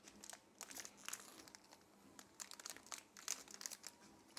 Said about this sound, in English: Sorry if the crumpling of the paper is annoying.